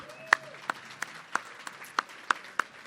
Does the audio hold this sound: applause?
yes